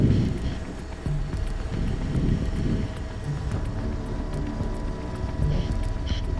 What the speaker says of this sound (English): Wind's whipping around. Wind's getting us pretty good.